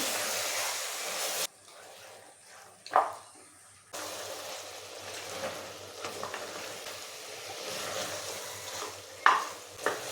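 Mutton with potatoes fries in a pan, a quiet sizzle with occasional sharp scrapes of stirring, broken by a brief near-silent gap.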